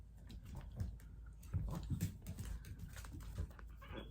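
Two puppies whimpering and panting close by indoors, with soft whines and snuffles coming in several short bursts over a few seconds while small clicks sound in the background.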